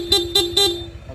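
A Honda ADV160 motorcycle's dual horn gives three quick, loud beeps in a row, a bright two-tone honk, followed by a fainter fourth toot.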